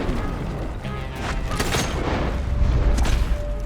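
Gunfire in Red Dead Redemption 2 booms in a dense, rumbling burst, with several muffled shots blending into a continuous low roar.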